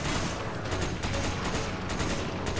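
Dense, continuous rapid gunfire in Resident Evil 5 crackles and booms without pause, loud and close, with overlapping shots and no talk.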